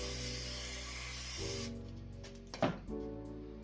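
Hairspray bursts into a 3-inch rubber hump coupler for a Coyote supercharger intake, a close, loud hiss of about a second and a half over a steady low hum, followed by a brief rustle and the hum continuing.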